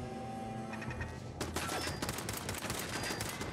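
Automated turrets open fire in Fallout 4, a dense, sustained burst of rapid gunfire that erupts suddenly and continues loud and close over a steady game background.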